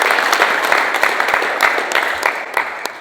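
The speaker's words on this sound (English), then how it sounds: "So give yourself a round of applause for that." Applause from an audience at a pro athlete community event in Austin, Texas, a steady wash of many hands clapping with scattered louder individual claps, gradually fading over a few seconds.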